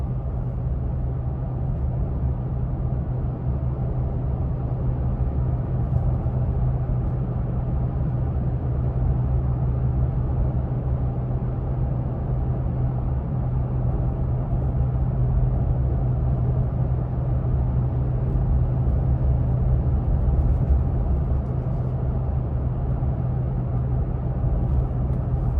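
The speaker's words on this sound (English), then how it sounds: "I've always kind of had a thing for Tacoma engine sounds" A 2020 Toyota Tacoma TRD Off Road truck engine drones steadily while driving, a loud, even low rumble with road noise that holds without change throughout.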